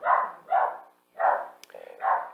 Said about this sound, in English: Is my dog annoying you, by the way? Can you hear him?